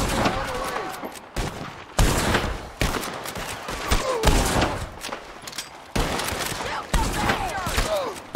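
Repeated bursts of gunfire in the Western video game Red Dead Redemption 2, loud volleys and rapid shots crackling one after another in a chaotic firefight, with voices shouting over the shooting.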